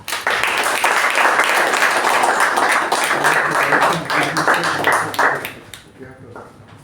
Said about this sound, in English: please join me in giving a big round of applause as we welcome our club president, Toastmaster Shreya